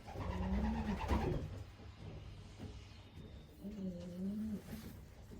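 A racing pigeon hen coos twice in soft, throaty rolling calls, close by, with faint background rustle between.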